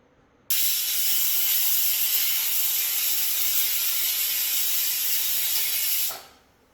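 A pressure cooker holding jackfruit lets off one long, loud, continuous steam whistle that starts abruptly, holds steady for about five and a half seconds, then fades away.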